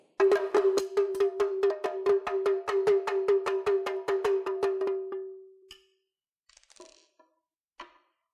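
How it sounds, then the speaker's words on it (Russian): A drum is struck rapidly and evenly about twenty times, each hit ringing with a clear tone, followed by a few faint clicks and handling noises. "А теперь постучим барабан сильнее."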